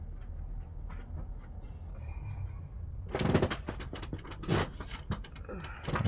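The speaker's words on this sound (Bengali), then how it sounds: "ট্রেন চলতেছে" A small amusement park ride train runs during an Eid outing at a Chandpur park. Faint background rumble gives way to louder clattering, rattling bursts of the train passing close by.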